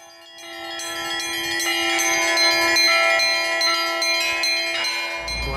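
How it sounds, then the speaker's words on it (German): Russian Orthodox church bells ring before or after a service. Bright, overlapping tones build in a rhythmic, layered peal that swells loudly, then fades with a lingering hum. "ertönen vor und nach dem orthodoxen Gottesdienst die Glocken"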